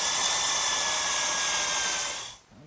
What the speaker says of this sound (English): I'm going to drill a 1/4 inch hole about a 1/2 inch deep.